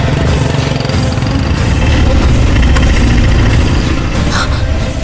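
A small auto rickshaw engine runs steadily close by, a continuous loud mid-range putter with a faint rattle, alone and without talk.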